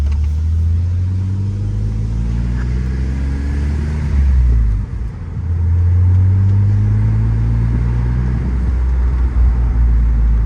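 A BMW Z3 roadster driving on backroads, its engine droning steadily with rising and falling tones as it shifts and accelerates, loud and close from inside the car with no talk.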